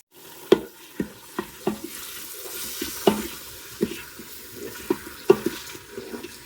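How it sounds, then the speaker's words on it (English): Chopped onion sautés in oil inside a pressure cooker for chili, a soft steady sizzle broken by regular sharp clicks and scrapes of a spoon stirring against the metal pot, close by with no talking. "We're going to saute the onion for 3 to 5 minutes or until translucent and fragrant."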